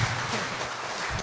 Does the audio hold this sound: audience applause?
yes